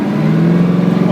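A 1972 Dodge Challenger with a 426 HEMI engine accelerates in first gear, its engine a loud, close, rising roar with a strong low growl, with a voice over it.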